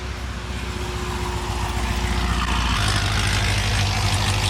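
A C7 Corvette Z06 idles with its exhaust valve open, a loud, steady low rumble that grows fuller and deeper partway through and holds close and continuous.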